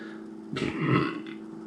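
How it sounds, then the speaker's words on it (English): A man burps while tasting a milkshake IPA, a short low belch rising out of quiet room tone, close and moderately loud. "Whew, excuse me, lots of burps."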